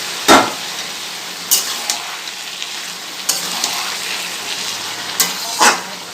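Green chili and poppy seed paste goes into ridge gourd and potatoes frying in a pan, producing a continuous soft sizzle broken by several sharp, loud stirring and scraping bursts at irregular intervals, with no talk.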